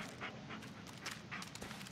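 A dog panting in the Blair Witch video game, steady soft breathy pants in a continuous rhythm against a noisy ambient background.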